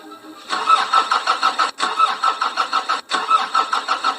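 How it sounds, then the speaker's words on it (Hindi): A car engine cranks repeatedly as someone in the driver's seat tries to start it, a steady rhythmic churning in three bursts separated by brief pauses, loud and close with no voices. "ड्राइविंग सीट पर बैठते हुए उन्होंने कार को स्टार्ट करने की कोशिश की।"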